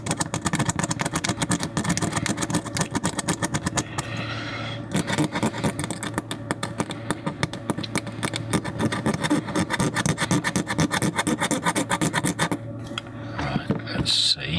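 Vigorous scrubbing at corrosion on a Vivitar 2500 flashgun, a fast, continuous rasping stroke repeated steadily and close up, with a brief pause near four seconds and again near the end.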